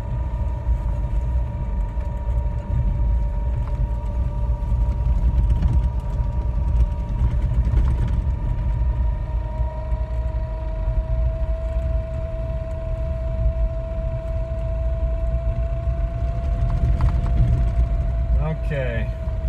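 An electric Suzuki Sidekick drives steadily up a driveway in four-wheel drive, a continuous low rumble of drivetrain and tyre noise with a steady motor whine that shifts pitch partway through, close and fairly loud throughout.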